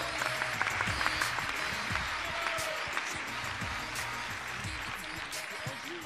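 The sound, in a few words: applause for a correct quiz answer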